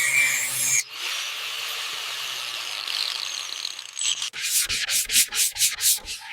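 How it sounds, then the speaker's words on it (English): Block sanding car body work on a Ford F-100: abrasive rubbing across a surface, a long continuous scrape, then a run of quick rhythmic back-and-forth sanding strokes, close and fairly loud. "Block sanding reveals everything."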